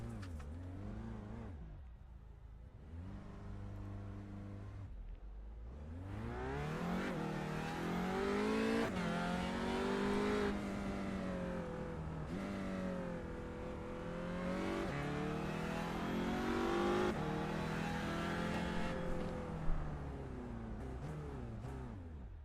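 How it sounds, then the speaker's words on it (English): A race car in a sim racing game revs repeatedly during practice starts at VIR, engine pitch climbing and dropping in bursts before a long, loud sustained acceleration through the gears, heard alone and close. "He's going to go practice some starts, is he?"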